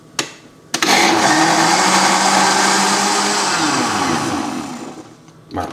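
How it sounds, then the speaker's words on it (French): A blender whirs loudly for several seconds after a couple of clicks, puréeing butternut squash soup, its motor pitch sagging slightly as it churns, then winds down and stops. "on va mixer cette préparation pendant une minute"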